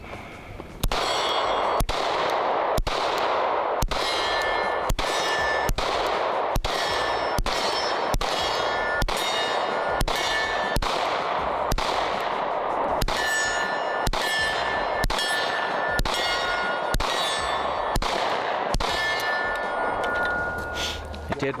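A CZ Shadow 2 Carry pistol fires a steady string of about a dozen shots, each followed by a bright ringing clang from steel targets at 35 yards, evenly paced and loud.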